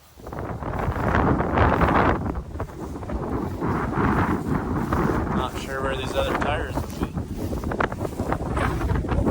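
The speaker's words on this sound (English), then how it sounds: "It's friggin' windy out though." Strong wind roars and buffets the microphone outdoors in a steady, heavy rush, while someone talks over it.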